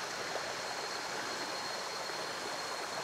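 The waterfall at Lamesang Bato in Ternate, Cavite rushes as a steady, dense roar of falling water, constant and fairly close, with no other sounds.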